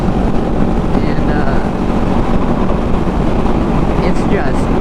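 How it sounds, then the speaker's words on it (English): Strong gusts buffet a microphone outdoors on a wild, windy day, a loud continuous roaring rumble that swamps everything for the whole stretch, with someone talking faintly underneath. "it is wild windy right now"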